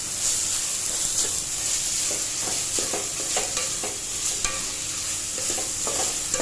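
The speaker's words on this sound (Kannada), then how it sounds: "ಇವಾಗ ಆಲೂಗಡ್ಡೆ ಹಾಕ್ತೀನಿ." Potatoes that had been soaked in water hit hot oil and fry with a loud, continuous hissing sizzle. Scattered soft stirring clicks rise through it, close by and without voices.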